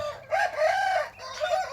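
Chickens kept with ducks in a poultry pen on a farm in Israel crow close by: one long, rising-and-falling crow, then a shorter call after a brief pause, with no talking.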